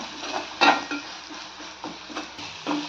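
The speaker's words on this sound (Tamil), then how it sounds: "இப்போ நம்ம கட் பண்ணி வச்சுருக்கிற கத்திரிக்காவை போட்டுக்கலாம் எல்லாத்தையும் சேர்த்து நல்லா வதக்கிக்கலாம்" Cut brinjal sautéed in a pan for a curry, with several sharp clinks and scrapes of a spoon against the pan and a soft frying hiss underneath; no talking.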